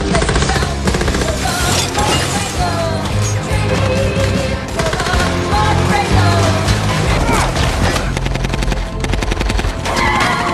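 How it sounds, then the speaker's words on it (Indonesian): Rapid gunfire from many weapons during a shootout scene in the film Nobody, dense and loud throughout, mixed with music and impact effects with no pauses. "aksi tembak-tembakan seluruh pasukan Yulian menyerang Paijo dengan menggunakan berbagai macam senjata"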